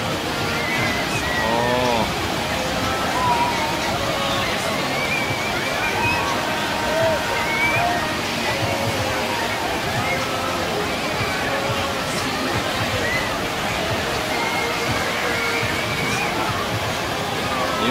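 Artificial tsunami-style waves, pushed out from a rock cliff wall, roll through a wave pool at Typhoon Water Park in Ha Long, making a steady, loud rush and slosh of churning water that runs without a break, with faint crowd voices mixed in.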